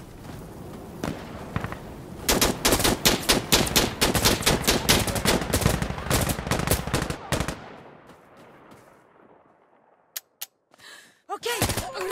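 An AK-12 rifle fires in Insurgency Sandstorm, loud and close, in rapid bursts of automatic fire that run for several seconds. The shots then trail off into a few isolated cracks, with brief game noises near the end.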